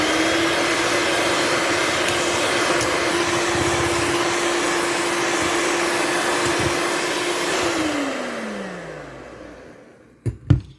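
An electric hand beater whips cream on medium speed with cold milk for custard ice cream, a loud steady motor whine that holds for about eight seconds, then drops in pitch and fades out, followed by a couple of brief knocks.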